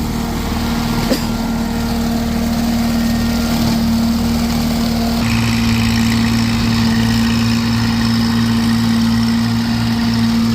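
A Kubota tractor with a Land Pride mower deck runs steadily on a homestead, a continuous mid-pitched engine hum with a brief click and a shift in tone partway through, no voices.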